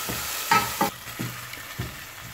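Onion and garlic sweating in a pan, a soft steady sizzle broken by several brief scraping stirs of a spoon against the pan.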